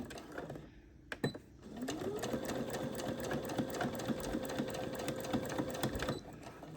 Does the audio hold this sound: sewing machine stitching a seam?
yes